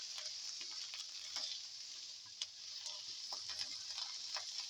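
Ground cumin, chili and fennel seed mix frying in a pan, a steady soft sizzle with small ticks and scraping stir sounds throughout, no talking.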